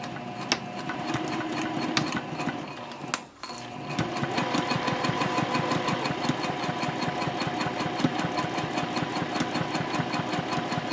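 A sewing machine stitches a tote bag at a 2.5 stitch length, its motor whirring in a steady, rapid, mechanical rhythm with one brief pause before running on continuously.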